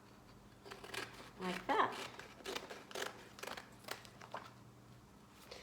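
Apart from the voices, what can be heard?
cutting up A1 transfer sheets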